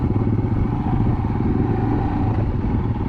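A Royal Enfield Himalayan motorcycle rides over a rough, bad patch of road, its steady engine thrum mixed with a loose clattering from the bumps, close and continuous for a few seconds.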